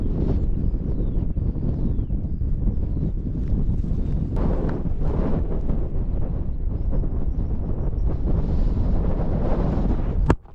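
Wind gusts buffet the microphone on an exposed Lake District summit, a steady loud rumbling roar with surging bursts throughout and no voices.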